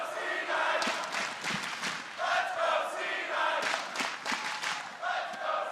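A large arena crowd at the 2016 League of Legends World Championship quarterfinal cheering and chanting continuously, loud and roaring throughout with rising and falling shouts.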